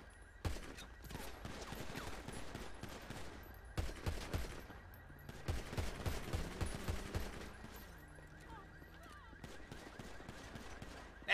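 Gunfire in GTA V role-play comes in sharp bursts of rapid shots, in clusters split by short pauses, over a quiet, low background hum.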